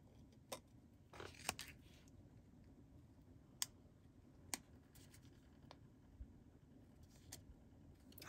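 Scissors snipping paper to cut out a small fairy image, a few quiet, separate crisp cuts spread across an otherwise hushed room.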